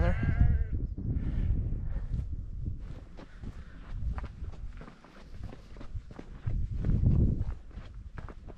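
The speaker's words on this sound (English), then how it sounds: "Sheep talking to each other." Sheep bleat back and forth on a hillside on Moel Famau, several calls at moderate distance over soft footsteps and outdoor ambience, with no one speaking.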